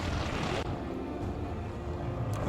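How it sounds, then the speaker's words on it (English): Drones fly overhead in the first-person shooter Wolfenstein: The Old Blood, a loud, continuous propeller-like drone that fills the whole moment with a steady roar and small shifts in intensity. "Are those drones that I hear?"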